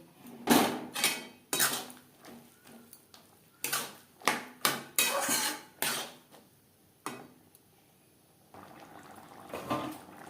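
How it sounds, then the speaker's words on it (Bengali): A spoon stirs a paste of ground tomato, ginger and green chilli into bean seeds in a cooking pot, making repeated loud scraping and clinking strokes in irregular bursts with short pauses between. "বেশ ভালো করে মশলা শিমের দানার সাথে মিক্স করে দেবো।"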